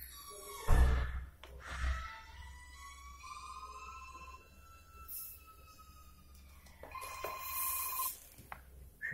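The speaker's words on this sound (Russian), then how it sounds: "будет идти сейчас вызов" Incoming call ringing on a phone sealed inside a CHOETECH waterproof underwater case, a muffled, steady electronic ringtone with sustained tonal notes and a couple of louder handling knocks.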